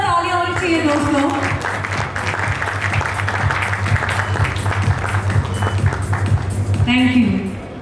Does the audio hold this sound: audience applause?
yes